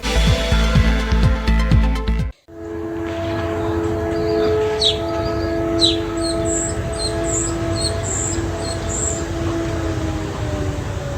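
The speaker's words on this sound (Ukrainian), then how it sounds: "Сирени повітряної тривоги і шпаки. Така весна на Харківщині." A steady wailing air raid siren drones on in Ukraine's Kharkiv region in spring while starlings chirp and whistle over it, after a brief burst of clattering noise at the start.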